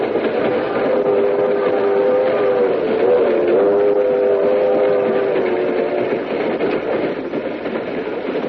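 A train rumbles steadily along the tracks, with a sustained horn-like tone sounding through the middle of the passage.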